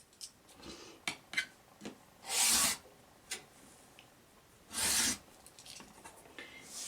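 Fabric for a disappearing pinwheel quilt block is sliced along a ruler: two short, loud rasping strokes a couple of seconds apart, with small taps and shuffles of handling between them and no voices.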